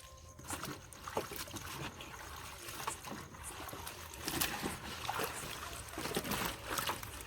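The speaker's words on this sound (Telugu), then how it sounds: "ఇలా నీళ్ళలో ఈ తేగలన్నిటిని వేసి శుభ్రంగా కడుక్కోవాలి" Palmyra sprouts being washed by hand in water at night, with continuous sloshing and splashing throughout, steady and close, with no talk over it.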